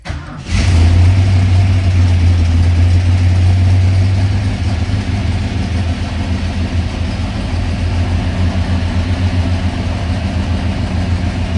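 A 1970 Ford Torino Cobra SCJ's big V8 engine cranks and catches, then settles into a loud, steady, rumbling idle with a deep low throb, close by.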